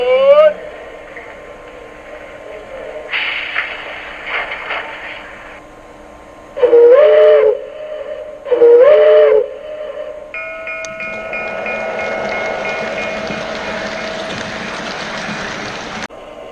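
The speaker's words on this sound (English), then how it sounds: "This has what's called a Hancock air whistle." Hancock air whistle on an MTH EP-5 electric locomotive model: two short, loud whistle blasts standing out above quiet running, then a longer steady tone over the hum of the model train.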